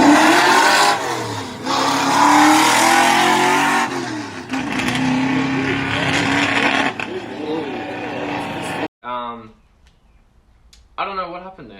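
Ford XF Falcon race car at the Geelong Revival pulling away from the line and accelerating hard through the gears, a loud, close engine roar rising with each shift for about nine seconds before cutting off abruptly, followed by a brief voice.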